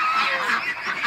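Ducks at a feed station give a rapid chorus of nasal honking quacks, several birds calling over one another close by.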